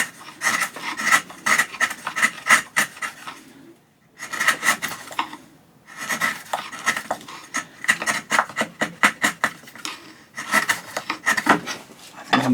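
A sharpened chisel pares a rough piece of scrap construction pine in repeated quick rasping strokes, rhythmic bursts of scraping grouped with short pauses between runs, close and fairly loud.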